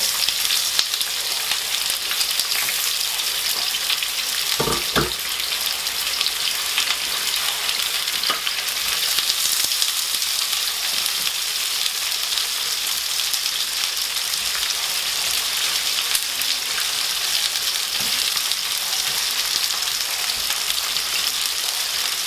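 Onion frying in a pan: a steady, loud hissing sizzle that runs unbroken throughout, with a brief clink near the start and no speech.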